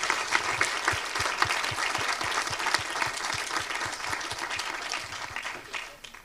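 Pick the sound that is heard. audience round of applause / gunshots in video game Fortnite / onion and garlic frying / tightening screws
audience round of applause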